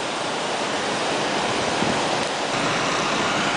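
Pumps draw water out of a 9.5-foot-deep prison pond, making a constant loud broadband rushing roar like a waterfall that holds even for the whole stretch, with no voices.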